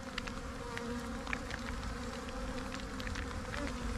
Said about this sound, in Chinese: 想不到这个蜜蜂这么勤劳，啊，这下雨天呢还有这么多在外面采蜜